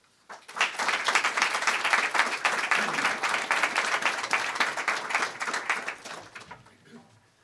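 A press conference audience bursts into sustained, dense applause to welcome a speaker. The clapping starts suddenly, holds strong for several seconds, then thins out and fades away.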